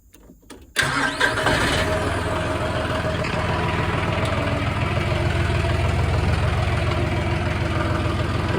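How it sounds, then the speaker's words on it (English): A tractor engine cranks briefly, catches with a sudden roar, then settles into a steady, loud diesel idle that continues without pause. "I'll start the tractor up"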